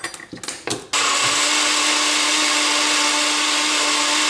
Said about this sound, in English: Blended the cashew nuts and the milk and the nutritional yeast as well until they form a smooth paste